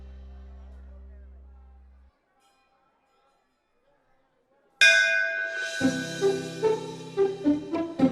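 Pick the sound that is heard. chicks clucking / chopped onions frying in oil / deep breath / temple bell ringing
temple bell ringing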